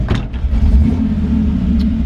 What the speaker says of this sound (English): This is a 1951 Ford F-1 pickup truck.